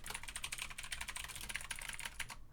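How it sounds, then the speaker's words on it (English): Rapid, continuous keystrokes on a computer keyboard as someone types out an IP address, with close, crisp clicks in a steady stream and no voices. "I've been typing this IP address like so much."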